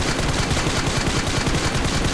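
Continuous loud automatic fire from an M416 rifle with a 50-round magazine in BGMI, a steady rapid stream of gunshots with no pause across the whole stretch.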